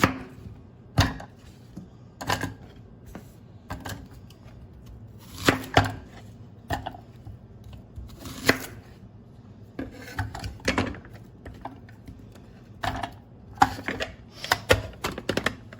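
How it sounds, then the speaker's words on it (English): ZYLISS Easy Pull manual food chopper cutting onion, heard as sharp irregular chopping clacks and plastic knocks, some in quick bursts and others spaced apart, close and fairly loud with no talking. "Just cut your onion up or vegetable,"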